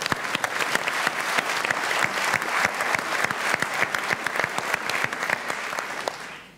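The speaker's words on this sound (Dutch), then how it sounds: "Jullie mogen er wel voor klappen, hoor." Audience applause after a dance-off performance at a regional dancing competition, dense sustained clapping from a large crowd with sharp individual claps standing out, loud and steady before fading at the end.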